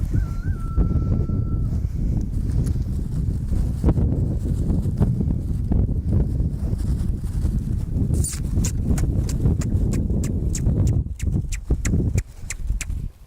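Hooves of a young horse named Oakley clip-clop on the ground during confidence-building groundwork, irregular steps close by mixed with rustling and outdoor wind, with a short whistle-like tone near the start.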